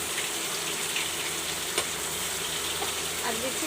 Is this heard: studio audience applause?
no